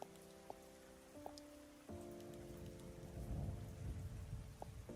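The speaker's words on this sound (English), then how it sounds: "Welcome to stream GDA's Thunder Sounds." Thunderstorm sound effect with rain plays quietly beneath steady electronic tones, with rumbling thunder and rain swelling gradually toward the end.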